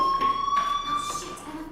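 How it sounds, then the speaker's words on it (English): A fire alarm in the video game Life Is Strange, a steady electronic tone sounding continuously at moderate level, with brief muffled thumps and background noise passing over it. "Hey, do you hear that fire alarm?"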